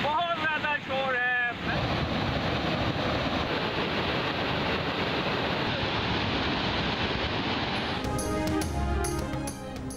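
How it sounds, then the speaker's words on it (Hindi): Loud flood water rushes steadily through Karachi after heavy rains, a dense continuous roar that fills the scene, with brief voices at the start and a few sharper sounds near the end. "पानी बहुत ज्यादा शोर है"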